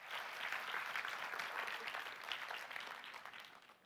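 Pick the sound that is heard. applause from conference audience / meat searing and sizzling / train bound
applause from conference audience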